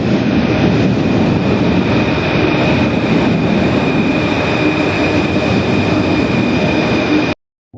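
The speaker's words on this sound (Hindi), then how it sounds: "मेट्रो आ रहा है, मेट्रो पकड़ेंगे इधर से" A Paris metro train roars loudly and steadily nearby as it arrives at the station, with rumbling wheels and a high whine, cutting off abruptly at the end.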